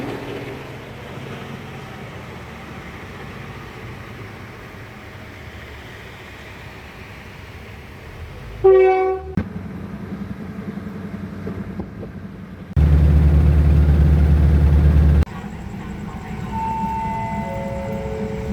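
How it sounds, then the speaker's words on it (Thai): A diesel railcar passes at night on a Thai railway, a low rumble building to a brief horn-like tonal burst, then a loud heavy roar for a few seconds before easing back to a steady engine drone. "ขบวนรถดีเซลรางที่383"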